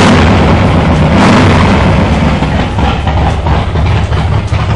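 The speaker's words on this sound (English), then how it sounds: "Let's get a quick listen." A 2010 Harley-Davidson CVO Screaming Eagle Softail Convertible with a Screaming Eagle engine and hydraulic clutch, running loud and close as a heavy, rumbling, steady roar with no talk over it.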